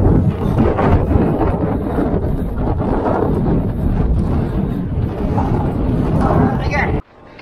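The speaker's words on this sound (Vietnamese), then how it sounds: "hôm nay gió to lắm." Strong wind gusts over the microphone at an outdoor kite flying session with a 5.5-metre flute kite in Văn Phú. The wind roars and buffets loudly for about seven seconds, then drops off abruptly.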